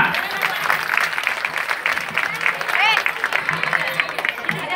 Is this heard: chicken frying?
no